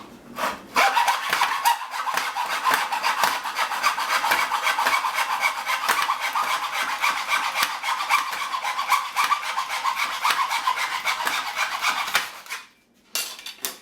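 Steady rasping of a blade cutting through a wooden hockey stick plug, a continuous close scraping with quick back-and-forth strokes that stops abruptly near the end.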